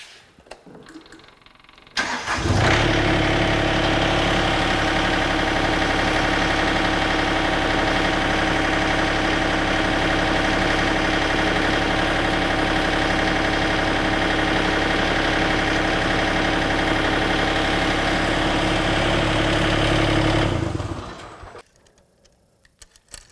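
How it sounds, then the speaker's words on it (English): A Toro Dingo TX 1300 compact utility loader with new tracks starts up and runs at a loud, steady engine roar for about eighteen seconds while its tracks spin, then shuts down and falls quiet. "We're just going to turn this guy on and spin the tracks a little bit, make sure everything's good."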